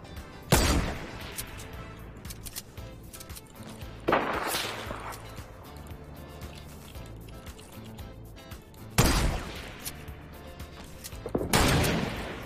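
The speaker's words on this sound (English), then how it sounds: "Oh, they're shooting at us now." Gunfire in a first-person shooter video game: four sharp, loud bursts spaced a few seconds apart, each with a ringing tail, over a low steady background with no talking.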